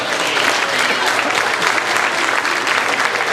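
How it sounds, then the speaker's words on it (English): School audience applauding a 4th-grade class performance, a thick, continuous wash of clapping from a large crowd, loud and even throughout. "give a big round of applause for our 4th graders as we perform Dateline Rock and Roll."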